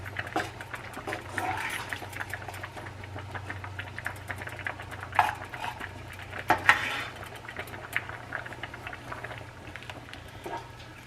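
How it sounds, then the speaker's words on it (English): Ground beef and noodles get stirred in a pot, a quiet scraping and clinking of utensil against metal with a few sharper knocks, over a low steady hum. "We want to get this stirred in really well."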